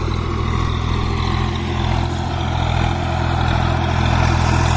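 A 1991 Swaraj 735 FE tractor pulling a nine-tine tiller through a field, its diesel engine giving a steady low throbbing drone that stays loud and constant throughout, with no voices.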